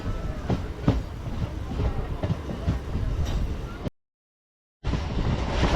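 A MEMU passenger train running between Vijayawada and Bhimavaram, heard from inside as a steady rumble with rhythmic wheel clatter, cutting out briefly and then resuming.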